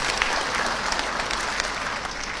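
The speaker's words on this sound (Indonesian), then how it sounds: "Boleh tepuk tangan untuk Datuk Anwar" An audience claps for Datuk Anwar, a dense, steady burst of applause from a crowd that fills the room, loud and even for a few seconds.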